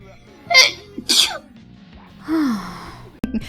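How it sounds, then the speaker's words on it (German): A person sneezes twice in quick succession, close and loud, then lets out a short voiced breath afterwards. "Ich muss kurz niesen."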